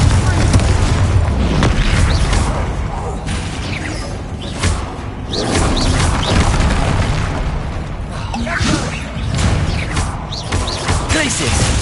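Confringo fire spells blasting during combat in Hogwarts Legacy, a dense stream of loud booms and bursts layered with clashing spell effects and shouted incantations throughout.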